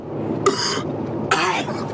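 Two short, sharp coughs about a second apart, close and fairly loud over a low background hum.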